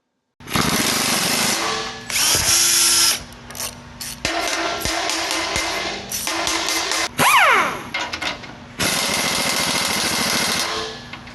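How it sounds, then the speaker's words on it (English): A power tool tightens fender bolts on a Jeep JK Wrangler with aluminum highline fenders, producing loud, close, sustained rattling impact bursts separated by brief pauses, with no talking. "once all the bolts are in place, you can actually lock her down, tighten it down, the front's done"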